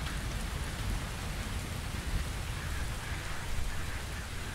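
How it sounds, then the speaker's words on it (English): Steady rain falling outdoors, a dense continuous hiss of drops with low rumble, moderately faint and unbroken. "Could I persuade you to come out of the rain, Flora?"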